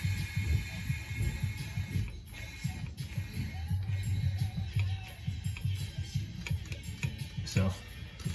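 An ESCO 92041 air bladder jack inflating under a car, giving a continuous low rumbling, hissing air flow with irregular creaks and knocks as the car lifts, moderately close.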